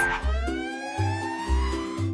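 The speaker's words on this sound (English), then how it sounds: "A is for ambulance." An ambulance siren in a children's alphabet cartoon wails in a repeating two-tone pattern, clear and fairly loud, set against a low musical backing and a brief voice at the start.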